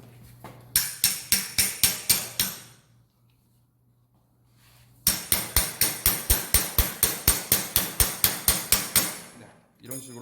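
A real implant is hammered into a hard sawbone shoulder model in a reverse total shoulder demo: a run of about seven sharp, evenly spaced strikes, a pause, then a longer run of roughly seventeen close, loud blows.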